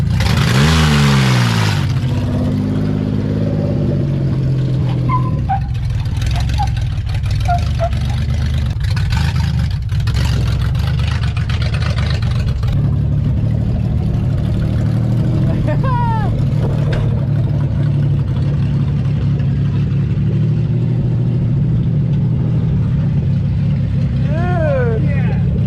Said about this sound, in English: All right, test drive time.